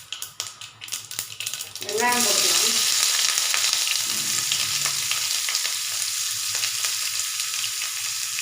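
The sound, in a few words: mustard seeds and urad dal frying in oil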